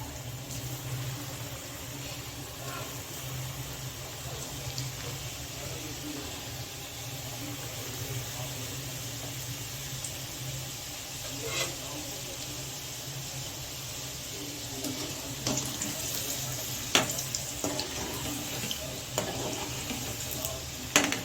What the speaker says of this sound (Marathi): आता आपण हे मोदक तळून घेणार आहोत